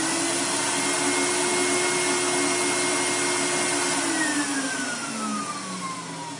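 A vacuum pump on a 20x24-inch vacuum easel runs with a steady loud whine and drone, its pitch sliding downward near the end as the motor winds down and vacuum pressure diminishes.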